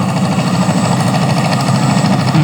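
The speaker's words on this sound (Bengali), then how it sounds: "দেখেন, 30 থেকে 40 জন যাত্রী নিয়ে এই ছোট্ট ট্রলারটি আবারও ফেরত যাচ্ছে" Engine of a small passenger trawler boat carrying 30 to 40 people, a loud, close, steady chugging drone with a rapid vibrating pulse.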